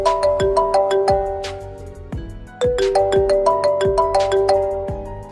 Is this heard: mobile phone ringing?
yes